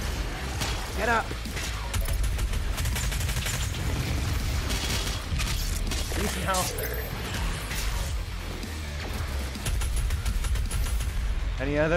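Rapid gunfire and mechanical weapon bursts from the video game DOOM Eternal, loud and dense throughout, with booming impacts mixed in under a player talking over the action.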